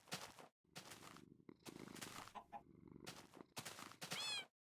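Minecraft cats purring in short rough bursts and meowing, several close sounds separated by brief gaps, ending with a rising high-pitched meow.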